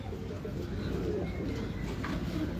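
Pigeons coo softly among the birds of a pigeon keeper's flock, low murmuring calls over a steady background hum.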